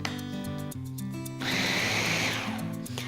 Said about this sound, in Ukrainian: І продовжую далі подрібнювати в нашому блендері.